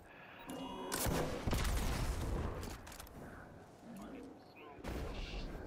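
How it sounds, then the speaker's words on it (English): A video game gun fires in a few sharp, loud bursts separated by short gaps, each crack trailing into a rumbling echo, with some quieter shots and background noise between them. "Oh, my gun shoots again."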